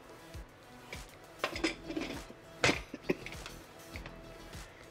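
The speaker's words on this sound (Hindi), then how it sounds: "कुकर को बंद कर देंगे।" Someone closes a metal pressure cooker lid with black chana curry inside, giving a few quiet, close clanks and scraping clicks of metal on metal against a hushed kitchen.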